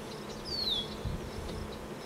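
Honey bees buzzing around a hive feeder fitted with a plastic ladder, a steady soft insect drone with one louder bee passing close by mid-clip, alone without talk.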